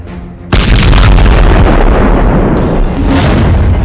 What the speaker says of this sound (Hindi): तभी एक बम फटता है।